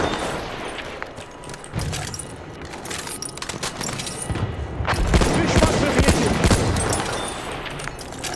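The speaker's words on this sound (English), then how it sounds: "Oh, he's using the mortar." Mortar fire in Battlefield 1 booms and crackles through a noisy battlefield, with scattered blasts and a heavier swell midway, while voices talk over the action.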